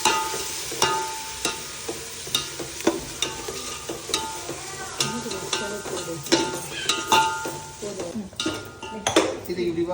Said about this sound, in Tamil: தயிர் போட்டு நல்லா வதக்கணும்.